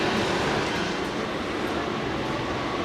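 Howrah–Digha local train rolling along near Uluberia, a steady, even rumble of wheels and carriage hum heard from inside, continuous and unbroken.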